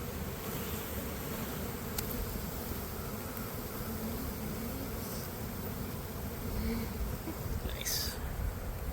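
A honey bee swarm on a second story buzzes as a dense, continuous drone while bees are scooped, steady and close throughout with no talking.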